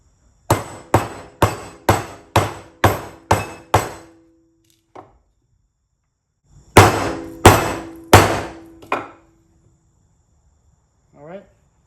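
A heavy hammer pounds steel front brake parts on a 1964-68 Mustang Wilwood six-piston disc brake upgrade: a rapid run of seven loud ringing blows, a lone tap, then four more strikes, metallic and close.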